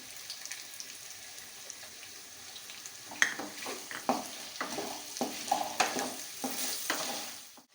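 Sabudana khichdi is stirred in a pan of hot oil. After a quiet start, a spoon scrapes and taps against the pan over a steady, close sizzle.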